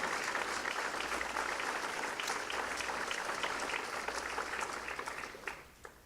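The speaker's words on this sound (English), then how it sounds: "Another round of applause for Mayor Benjamin." Sustained audience applause at a Fort Jackson Hall of Fame induction ceremony, a thick continuous roar of many clapping hands that holds steady before thinning and tapering off into a few scattered final claps.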